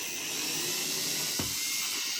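A power drill bores slowly through drywall while a wall-mounted charging cable organizer is installed, giving a steady high whine that runs throughout, close and even in level, with no talking.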